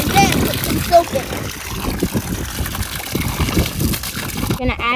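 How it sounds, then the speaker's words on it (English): Water from a garden hose splashes and sloshes into a bucket for washing an electric dirt bike, a steady busy splatter running throughout with a voice talking over it. "So you're going to fill your bucket up with some water and then put some soap in it."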